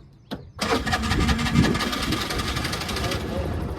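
An auto rickshaw engine cranks briefly, then catches and runs with a steady rattling idle for several seconds, with voices talking over it.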